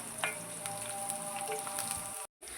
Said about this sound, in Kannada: ಹಸಿ ಮೆಣಸಿನ್ಕಾಯಿ ಎಷ್ಟು ಎಣ್ಣೆಯಲ್ಲಿ ಫ್ರೈ ಆಗುತ್ತೋ ಅಷ್ಟು ಖಾರ ಬಿಡುತ್ತೆ